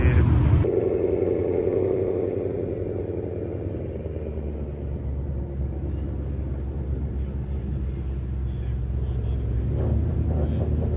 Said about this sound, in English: come on, fire it up, Terry.